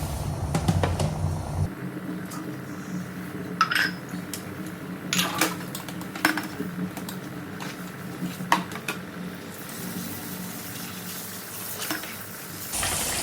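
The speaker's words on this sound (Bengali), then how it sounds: "দুটো থালা আগে ধুয়ে নিই" Two fiber plates being washed at a home sink, with clinks and scrapes of dishware and a thin stream of running water throughout, some sharper knocks standing out from a steady wet background.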